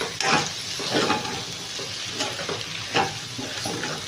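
Ginger pieces fry in a pan under a continuous sizzle while being stirred, with several distinct scraping strokes rising over the hiss at close range.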